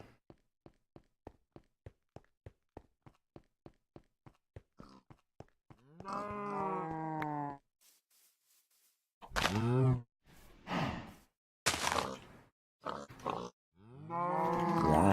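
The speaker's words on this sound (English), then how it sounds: "Quit pushing me, you stupid cow." Blocky Minecraft cow mooing in a video game: a run of quick, evenly spaced footstep clicks, then several drawn-out low moos in short bursts, loud and close with no talking.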